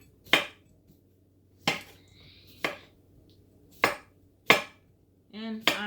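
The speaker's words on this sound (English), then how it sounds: "I'll just move those pieces over to the side and continue to chop." A knife chops through fruit on a cutting board for a fruit salad, with sharp, evenly spaced thunks, six in all, close and alone in a quiet kitchen.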